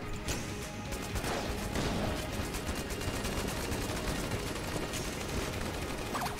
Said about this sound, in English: Yo, good explosion.